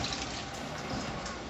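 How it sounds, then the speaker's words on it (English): Cooking liquid with walnuts poured into a colander, a steady broadband rush of flowing liquid that runs continuously and close for the whole short stretch, with no talk over it. "we carefully just pour the liquid into the colander"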